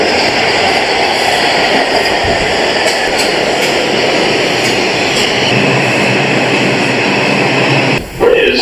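A New York City subway train on the 5 line rumbles loudly and steadily with a constant roar and metallic hum, cutting off abruptly near the end.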